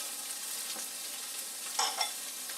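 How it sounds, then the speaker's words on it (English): Onions, celery and other vegetables sizzle and crackle steadily in olive oil in a pot, a close, continuous frying hiss with a couple of sharper bursts near the end. "Put a little olive oil in there. And I'm going to cook down our onions,"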